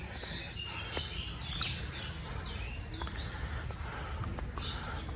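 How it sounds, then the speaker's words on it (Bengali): Birds sing and chirp in an outdoor setting across the Kirtankhola river, a few scattered short calls at mid distance over a steady background hum. "পাখির শব্দ পাচ্ছি,"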